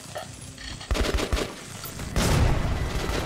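A bomb explosion in the video game Metro 2033, with a burst of loud crackling blasts followed by a sustained roaring rumble, close and without talk.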